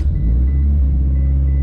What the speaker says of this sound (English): we are going to fire up the car